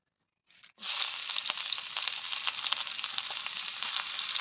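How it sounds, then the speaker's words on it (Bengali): Chopped onion hits hot oil in a pan over a wood-fired stove with a sudden loud sizzle that starts after a brief silence and holds as a dense, crackling hiss to the end. "এবার আমি পেঁয়াজ কুচিটা দিয়ে দেবো"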